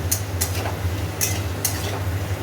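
Food sizzles steadily in a pan as a spatula stirs it, with several quick scraping strokes rising over a low hum of frying, close and moderately loud.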